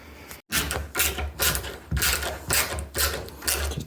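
A door handle turned repeatedly on a newly fitted mortice latch, giving a series of about eight close mechanical clacks and springy latch returns in a quiet room.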